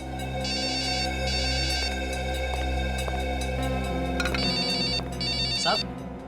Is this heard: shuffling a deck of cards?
no